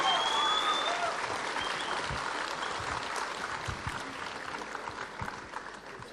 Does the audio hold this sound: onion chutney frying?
no